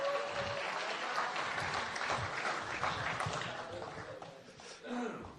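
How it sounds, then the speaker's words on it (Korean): Audience at a Korean Democratic Party gathering applauding a politician's speech, a sustained round of clapping from a crowd in a hall with voices mixed in, swelling briefly near the end. "박수 한번 보내주십시오."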